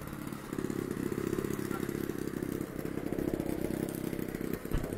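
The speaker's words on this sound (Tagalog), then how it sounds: "inaayos nila yung makina bago ilipad." A radio-controlled model aircraft's small engine runs steadily before flight, a close, buzzing drone with a rattling edge that holds for several seconds and then fades briefly near the end.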